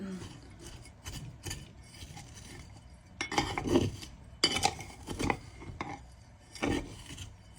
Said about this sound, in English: Mix up that dirt that's in there a tiny bit.